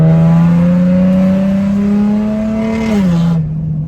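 A Nissan 370Z engine revs loud and close while the car drifts, holding a strong steady drone whose pitch dips near the end before the sound cuts off.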